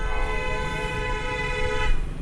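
A car horn honks in sustained, tonal blasts over busy street traffic noise near the MOA and CCP complex in Manila, fairly close and loud throughout.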